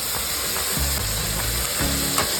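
Chopped coriander and mint leaves fry together in a pan for homemade village-style chicken biryani, with a continuous close sizzle and the scrape of repeated stirring.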